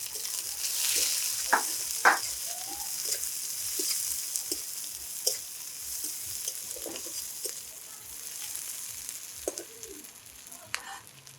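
Chopped onion, green chilli and cumin fry in a pan with a steady close sizzle, punctuated by regular stirring clicks, while birds chirp and coo in the background.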